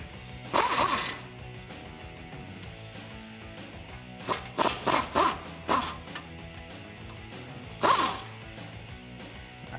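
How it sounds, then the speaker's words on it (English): Pneumatic air gun with a 19 mm socket and swivel rattles off caliper bolts on a 2004–2013 Ford F-150 front end: one short burst, then a cluster of four or five rapid bursts, then a final burst, in a quiet garage. "I'm gonna use a 19 millimeter socket and a swivel socket along with my air gun to pop this bolt off"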